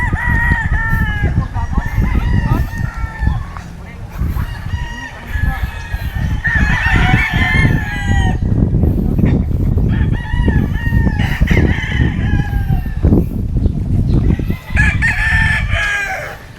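Several roosters at a gamefowl farm in Cebu crow loudly and repeatedly, calls overlapping near and far, with clucking and other fowl noise in between and faint talk in the background.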